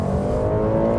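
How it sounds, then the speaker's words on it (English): Steady engine drone from a naturally aspirated V6 fills the cabin of a 2018 Buick Enclave on the road, a continuous mid-level hum lasting only about a second. "there is a little bit more engine noise coming through the cabin than we see in some of the competition, but this does have a naturally aspirated V6 engine"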